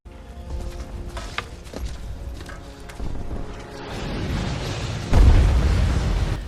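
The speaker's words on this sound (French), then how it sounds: "Puis, le bruit d'un obus vous tire de ce rêve." Artillery shell explosion sound effect in a World War I trench setting, December 1914: low rumbling builds over several seconds into a heavy deep boom near the end, fairly loud and spreading, with no talk.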